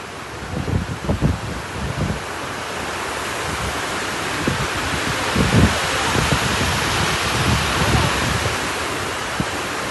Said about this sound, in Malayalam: വെള്ളം അത്രയും ഫോഴ്സിലാണ് കേട്ടോ പോണത് മാത്രമല്ല അതിൻ്റെ മുകളിൽ നല്ല കാറ്റടിക്കുന്നുണ്ടായിരുന്നു